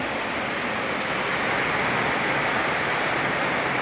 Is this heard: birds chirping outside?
no